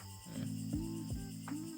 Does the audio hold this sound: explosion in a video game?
no